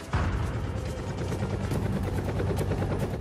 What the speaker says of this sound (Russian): Вертолеты Black Hawk и Little Bird с рейнджерами и элитой операторов Дельты взлетают с базы в черте города.